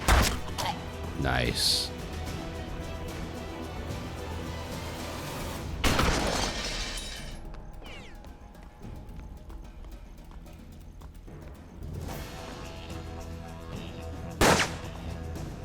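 Gunshots in the Wild West video game Hard West ring out as a few sharp, loud cracks with trailing echoes, spread apart and set over hoofbeats and background game sounds, and someone speaks briefly.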